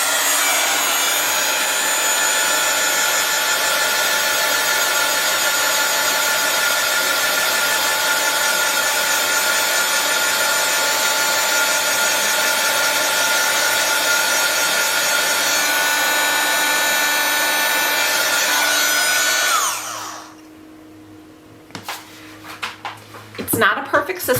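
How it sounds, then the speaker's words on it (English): A crafting heat tool used for heat embossing stamps blows a steady, loud hiss of air close to the mic for about twenty seconds, then cuts off, leaving faint handling noises. "now this is a heat tool. It's often used in crafting for heat embossing"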